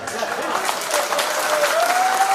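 Audience applause at a political speech, a steady wash of clapping throughout, fairly loud and close, with a voice faintly threaded through it.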